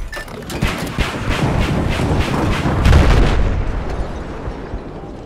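Zuni rockets fired from an LAV in Battlefield 4 give a loud rolling sequence of booming launches and blasts over a heavy low rumble, swelling near the middle and fading at the end.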